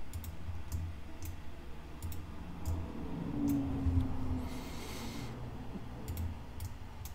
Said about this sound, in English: by left clicking, as you can see.